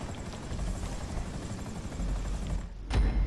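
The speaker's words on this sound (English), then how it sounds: "Helicopter blade." Helicopter rotor blades thudding in Grand Theft Auto V Online, a steady loud chop throughout, swelling closer near the end with a brief sharp burst.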